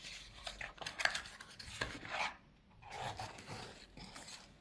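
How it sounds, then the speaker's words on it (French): A pair of scissors cuts open the packaging of beauty products from a Sephora and YesStyle haul, giving quiet, close snipping and rasping rubs in several uneven bursts with short pauses between them. "Faut pas que je me blesse avec la paire de ciseaux."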